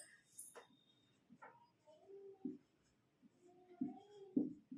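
Chalk or marker writing on a board during a Hindi history lesson, several short scratchy strokes at close range, with a voice speaking over it.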